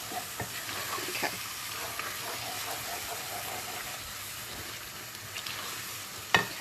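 Curry made from canned pantry ingredients cooking down in a pan, giving a soft, continuous sizzle and bubbling hiss with faint pops and a sharper clink near the end; no one speaks.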